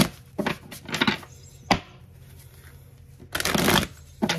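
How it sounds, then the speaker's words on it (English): Tarot cards being shuffled by hand in bursts of crisp riffling and slapping, several separate flurries with short pauses between, close and fairly loud with no talking. "So let's shuffle these cards for real and see what they really want to give you"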